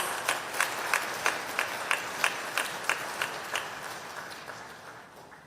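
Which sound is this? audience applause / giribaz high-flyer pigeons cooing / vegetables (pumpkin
audience applause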